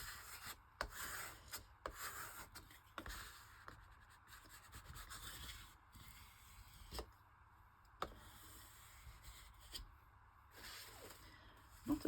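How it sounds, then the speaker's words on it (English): A scraper is rubbed across glued paper in a black and white journal, giving faint, close scratchy strokes in irregular bursts with small taps and pauses between passes. "using the scraper thingy to just make sure it sticks and that the excess glue will go away"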